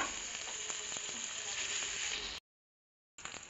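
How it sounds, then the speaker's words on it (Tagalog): Garlic, onion and ginger sauté in hot oil for a squid stew cooked in coconut milk, giving a steady bright sizzle that runs without a break, stops abruptly in a short silence, then resumes. "Hulog po natin ang bawang, sibuyas at luya. Dire-diretso po, igisa natin ng kaunti."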